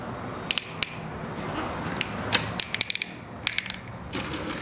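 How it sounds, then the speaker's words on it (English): Stitch dial on an AtlasUSA AT2284 sewing machine clicked and turned, giving sharp mechanical ratcheting clicks, some single and some in quick clusters, close and clear over a low background rumble. "we click on the dial right here, and then just push the button and turn"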